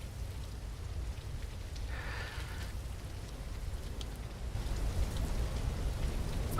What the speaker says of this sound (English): It's raining, it's pouring, and Buzz is not snoring yet.